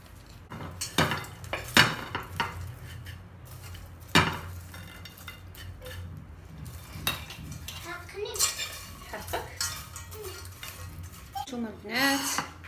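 A pot of popcorn cooked without oil is shaken and handled in a home kitchen, producing scattered clanks, metallic clinks and rattles at close range, with brief voices and faint sizzling in between.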